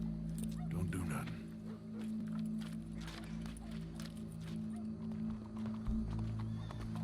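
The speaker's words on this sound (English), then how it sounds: "Go brush that horse" A horse whinnies and snorts in a video game while hooves clop steadily on hard ground, with a low droning hum and some background voices throughout.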